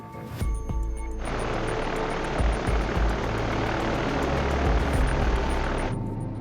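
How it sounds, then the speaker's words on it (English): A B-29 bomber takes off from an airbase on Tinian in the northern Mariana Islands, its propeller engines making a steady, loud, broad roar that holds for several seconds, with a low rumble underneath and no voices. "the crew of a B-29 named Enola Gay, after the Captain Paul Tippett's mother, takes off from their airbase in Tinian"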